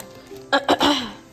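A person with a cold coughs close by, two quick harsh bursts followed by a longer throaty one, brief and fairly loud in a quiet room.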